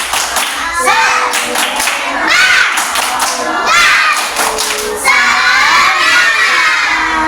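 A group of children in a classroom performing a rhythmic clapping chant, with bursts of loud shouting and cheering between rapid claps and thumps, close and energetic.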